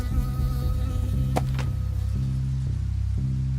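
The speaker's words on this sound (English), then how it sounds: "I got stung by a bee." Bee buzzing in the PC video game Firewatch, a steady insect drone over a low game background hum lasting a few seconds, with no talk over it.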